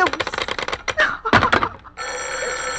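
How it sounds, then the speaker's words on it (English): An old telephone bell rings in a radio drama, sounding in several sharp bursts of bright, rapid clanging, loud and close, with a final ring sustained to the end. "Hello, stop ringing, do you hear?"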